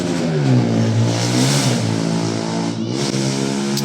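A loud motorcycle engine revs close by beside a youth football match, its whining pitch rising and then dropping as it passes and moves away.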